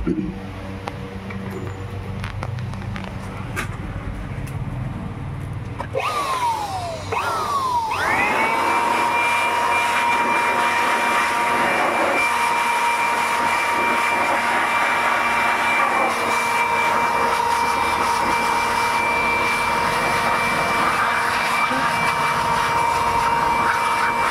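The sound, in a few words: vacuum machine cleaning HP LaserJet 1020 printer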